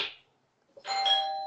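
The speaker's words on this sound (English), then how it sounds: "Quit ringing my doorbell, you crazy bear!" A Ring doorbell chimes once after a brief rustle, a clear sustained electronic tone ringing out close by in a quiet setting.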